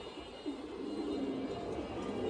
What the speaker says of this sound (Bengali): সুন্দর কবুতর, খুবই রেয়ার একটা কবুতর ভাই এইসব কবুতরগুলা